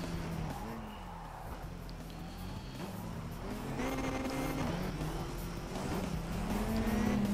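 A race car in the SimRaceWay racing game, its engine whining and shifting pitch steadily as it pulls alongside and passes, continuous and close.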